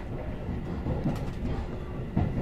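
A JR 117 series train runs on again after an emergency stop at a level crossing, heard from inside as a steady rumble of wheels on rail with a couple of soft clacks over the joints.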